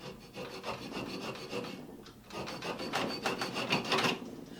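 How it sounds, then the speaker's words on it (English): Acid-sharpened metal files scraped clean with copper tubing: a run of rough, rasping strokes, close and moderately loud, with a short pause partway through before quicker scraping resumes. "So I'm going to go ahead and clean up these files with the copper tubing."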